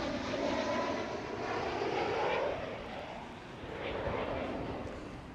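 Steady jet engine roar from an Airbus A321neo at Amsterdam Schiphol, a broad, fairly close rumble that swells and dips gently with no talking.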